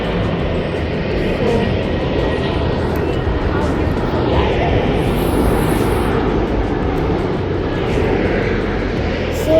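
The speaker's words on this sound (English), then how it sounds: "It's very near to the airport, so you can see the flights every 35 seconds." A jet airliner roars overhead close to a London airport, a broad sustained engine rumble holding steady and loud across the whole stretch with no pauses.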